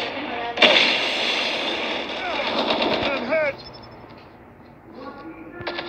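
Rapid bursts of AK-47 gunfire in the mobile shooter Call of Duty Mobile, with dense automatic rattling in the first half and fainter shots later, under game sound effects and voices.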